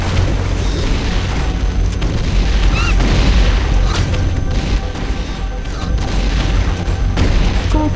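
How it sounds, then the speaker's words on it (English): Scorpion missile launcher explosions from the 1998 Turok 2 multiplayer game pound continuously, loud dense booms and crashing blasts overlapping with no pause and no voices. "Scorpion missile launcher"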